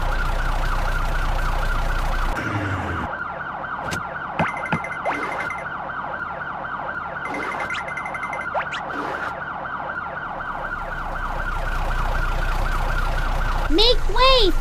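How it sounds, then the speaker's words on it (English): A cartoonish ambulance siren from the CandyBots car and truck game wails in a steady repeating rising-and-falling pattern over a sustained engine drone, with chirpy game sound effects near the end. "Make way for the ambulance."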